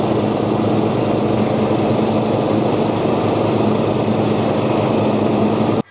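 Cub Cadet ride-on lawn tractor with a single-cylinder engine cutting wet grass, a loud, steady droning engine hum with constant vibration, close up and uninterrupted until it cuts off abruptly at the end.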